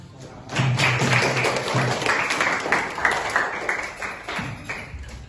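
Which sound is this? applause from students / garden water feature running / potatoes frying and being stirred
applause from students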